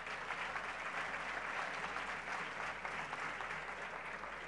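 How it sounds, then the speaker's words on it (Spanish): A university auditorium audience gives a guest speaker steady, sustained applause at an inauguration event, the dense clapping holding at an even level throughout without voices standing out. "un aplauso para él, por supuesto."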